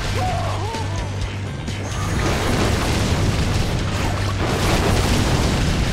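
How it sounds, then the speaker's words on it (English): In the video game Orcs Must Die 2, a loud explosion booms and rumbles on as a sustained crashing roar, with brief game effects beneath it. "An explosion!"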